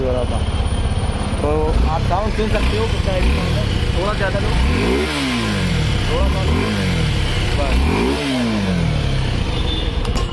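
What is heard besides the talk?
motorcycle engine revving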